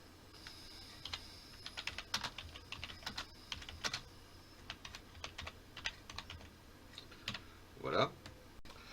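Fast, light typing on a computer keyboard while dialogue text is entered into an Unreal Engine 5 project, irregular clusters of close clicks with a few heavier keystrokes near the end.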